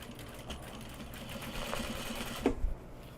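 A home sewing machine runs steadily while stitching a fabric bag, a fairly quiet continuous whir with a couple of sharper clicks near the end.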